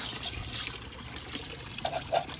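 Water trickles and splashes softly into a backyard turtle pond, a gentle, uneven dribble with a few louder drips near the end.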